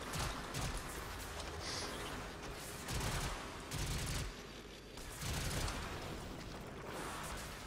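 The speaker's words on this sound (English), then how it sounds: "Oh, I think I just shot some rocks." Rapid gunfire and rock-breaking blasts from the video game Warframe come as dense, continuous, loud bursts of noise with pulsing surges, layered over constant game effects and no clear pauses.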